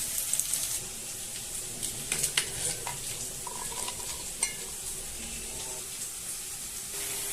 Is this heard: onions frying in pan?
yes